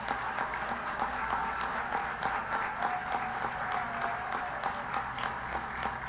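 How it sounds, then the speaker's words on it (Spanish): Sustained, fairly soft audience applause at a culture ministry address about a book fair in Colombia, steady dense clapping throughout with no voices on top. "un aplauso"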